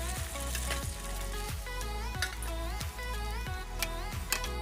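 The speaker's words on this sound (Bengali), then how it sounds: "এরকম করেই বাকি মাছগুলোকে ভেজে তুলে নেব।" Pieces of rohu fish frying in hot oil, a steady dense sizzle with crackling pops and a low bubbling rumble throughout, close and continuous with no talk.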